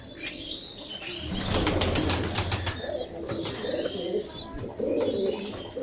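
Racing pigeons at a loft coo and flap their wings close by, bursts of wingbeats and fluttering mixing with soft cooing and occasional chirps in a steady, moderately quiet scene.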